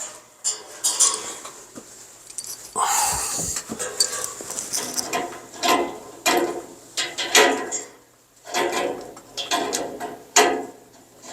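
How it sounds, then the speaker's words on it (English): An adjustable wrench snugs down fittings on a blue flame heater, giving irregular metallic clinks, clanks and ratcheting scrapes in short bursts with brief pauses between them, close and fairly loud. "got to get the adjustable wrench and snug them down"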